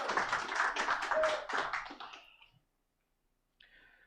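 An audience at a live stage show applauds, a dense burst of clapping that fades out after a couple of seconds, followed by silence and a faint brief rustle.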